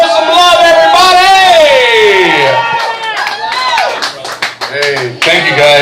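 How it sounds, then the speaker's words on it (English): A crowd claps and cheers loudly, with whoops and high shouts rising over the steady applause, close and lively throughout. "Guys, clap it up, make some noise. Let me hear you."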